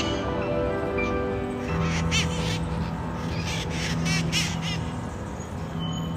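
A flock of crows gangs up on a wild parrot outdoors in San Francisco, giving repeated harsh caws and squawks from several birds at moderate distance over a constant background hum.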